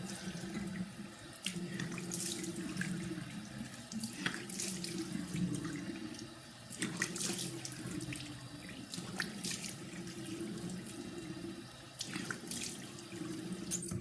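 Warm water runs steadily from a bathroom tap into a sink during face washing, a continuous close splashing with small shifts and drips as hands move through the stream, with no talk.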